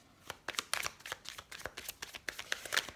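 Oracle cards being shuffled for a tarot-style reading, a steady run of quick papery riffles and slaps, close and crisp, with no talk over them.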